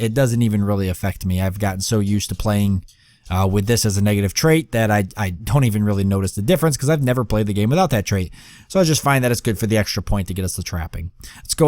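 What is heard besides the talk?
None of the usual background noises is heard.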